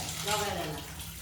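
Water splashes and runs steadily as clams are rinsed for a Malvani-style masala dish, close and continuous for a brief moment.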